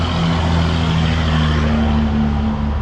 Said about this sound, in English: Listen to that truck there